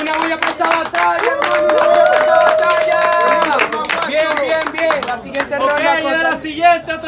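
A live crowd at a freestyle rap battle semifinal claps and cheers loudly and steadily for several seconds, with an MC's voice shouting over the applause and babble.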